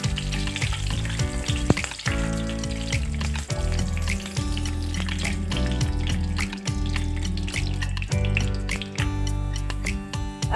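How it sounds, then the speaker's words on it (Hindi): Peanuts roast in hot oil in a home kitchen pan for leftover-roti upma, giving a loud, steady sizzle with frequent crackles, pops and stirring scrapes throughout. "अब ये तेल हो गया, फल्ली दाना डाल देती हूँ मैं। इसको हल्का सा मैं रोस्ट कर लूँगी।"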